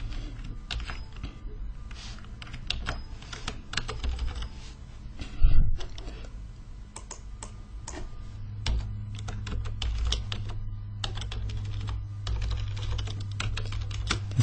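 Someone types steadily on a computer keyboard throughout, producing quick, irregular clicks of keys with a few louder key strikes, close and fairly quiet over a low hum, with no talking.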